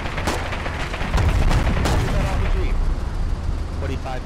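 Bazooka and RPG fire at an enemy tank in the video game Foxhole: loud repeated booms and gunfire crackle in a dense battle mix, with voices talking over the action.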